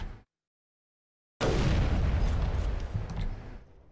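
Video game combat in Mass Effect 1: a sharp burst at the start, a short silence, then a loud sustained roar of gunfire and explosions that slowly fades.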